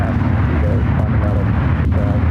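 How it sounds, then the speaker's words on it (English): A Japan Airlines Boeing 787-9 Dreamliner at San Francisco airport produces a dense, steady jet roar, loud and continuous throughout, with a voice faintly audible under the noise. "Japan Airlines Flight 57 heading to Tokyo Narita. It's a 787-9 Dreamliner."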